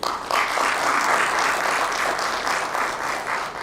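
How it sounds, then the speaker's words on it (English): Sustained, even applause from an audience at a domestic violence awareness event welcomes an attorney panelist, a full wash of clapping from start to finish with no voices over it. "Please give me a hand of applause for Attorney Fu Vu."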